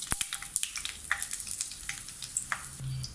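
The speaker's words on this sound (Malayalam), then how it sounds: "ഇനി ഇതിലേക്ക് ഉണക്കമുളക് ഇട്ട് കൊടുക്കാം." Dried red chillies and mustard seeds frying in hot oil in a pan for Kerala-style beans thoran, a faint steady sizzle dotted with quick crackling pops and small stirring clicks.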